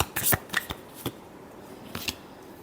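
Tarot cards are shuffled close up in a quiet room: a quick burst of crisp riffling and slapping, a few separate card taps, then another short flurry near the end.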